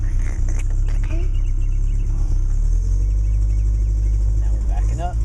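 A warmed-up car engine rumbles loudly and steadily as the car reverses out of a driveway, with low voices faintly audible in the cabin.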